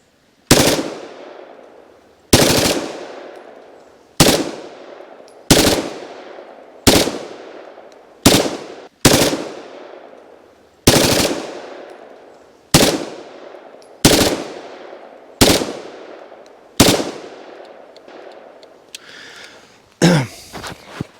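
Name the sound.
Stechkin 9x18 mm automatic pistol firing in automatic mode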